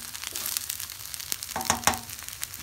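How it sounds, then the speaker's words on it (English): Hot dog pieces and quinoa fried rice stir-frying in a hot pan, a soft steady sizzle with scraping stir strokes and a few sharper clanks of the utensil, close and fairly quiet, no talking. "you're gonna stir fry it all together"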